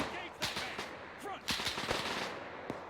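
Rapid gunfire in a military video game battle on a defensive line, with bursts of sharp close shots and scattered cracks at irregular intervals, loud and dense throughout.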